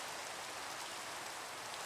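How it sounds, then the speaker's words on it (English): Steady, even rain hiss fills a video game's damp, mossy outdoor setting, constant and moderately close with no breaks or voices. "Every time I came out of those caves for picks or to eat or something, rain. Just constant rain."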